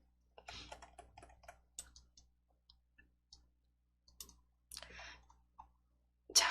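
Computer mouse clicking while code blocks are copied and pasted in a coding program: scattered, faint, dry clicks in small irregular clusters separated by near silence, ending in a slightly louder burst.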